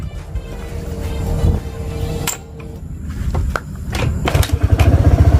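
A motorcycle engine is kick-started: thumps of the kick lever, then the engine catches and settles into a rapid, close, loud putter by the end.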